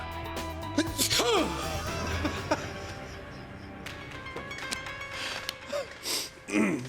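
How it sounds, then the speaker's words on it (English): A sharp, loud sneeze, triggered by sniffing pepper, bursts out about a second in, followed by breathy gasps and scattered noises, with voices talking quietly in the background. "That was a sneeze."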